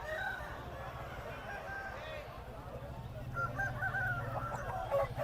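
Chickens cluck and call over a steady murmur of the crowded Piler poultry market, with a low hum running throughout.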